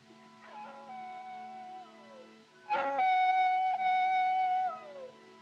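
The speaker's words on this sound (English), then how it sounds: "Them coyotes give me the creeps. It sounds, well, it sounds just like a baby." Coyotes howling outdoors at night, drawn-out wavering cries that slide downward, one howl fading then a louder chorus of overlapping yips and howls joining in before trailing off.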